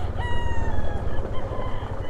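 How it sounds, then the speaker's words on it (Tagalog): Many chickens at a poultry farm in the mountains of Nueva Vizcaya, with roosters crowing repeatedly over a dense, continuous background of clucking from a large flock. "manok, daming manok."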